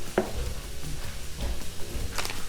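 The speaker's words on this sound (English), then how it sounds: "down a little bit with a spatula as it browns" Ground taco meat browning in a pan while a spatula presses it down, with soft sizzling, scraping and a few light knocks against the pan, close and moderately quiet.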